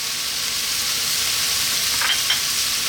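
Olives sizzle loudly in a hot pan, a dense continuous frying hiss with brief scraping stir strokes near the end, close and alone without speech.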